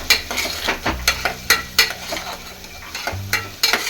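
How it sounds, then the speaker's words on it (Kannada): Masala paste frying in a pan for sprouted bean sambar, a soft sizzle broken by repeated scraping spatula strokes about every quarter second, close and fairly loud, with no talking. "ಆಗಿದೆ ನೋಡಿ, ಫೈನ್ ಪೇಸ್ಟ್ ಆಗಿದೆ, ಫ್ರೈ ಆಗ್ತಾ ಇದೆ"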